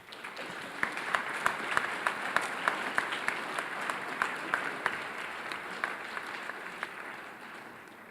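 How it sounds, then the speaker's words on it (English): At an academic excellence awards ceremony, an audience gives a round of applause for young honorees; a steady, moderately distant wash of clapping with sharper individual claps standing out, tapering slightly at the close. "Please give these young men a round of applause."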